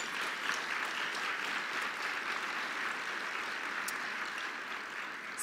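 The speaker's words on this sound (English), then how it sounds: "I think you think that deserves an applause." A luncheon audience gives a steady wash of applause. It is even and sustained throughout, soft and somewhat distant, with no voices over it.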